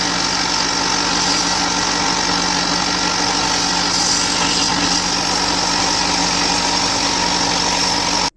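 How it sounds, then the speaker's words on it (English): A table sander smooths bandsaw marks from a knife blank, a continuous loud motor hum with a grinding hiss that holds steady throughout. "using this table sander to get all the little saw marks from the bandsaw out of the knife"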